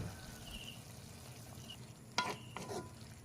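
Quiet bubbling and sizzling of string beans adobo boiling in a pan, a soft steady simmer with a couple of brief clinks from a utensil near the end.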